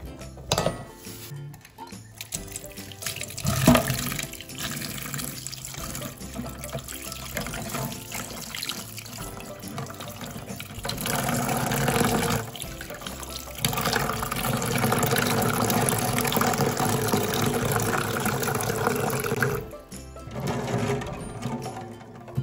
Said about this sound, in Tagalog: hugasan bago ilaga ang pugo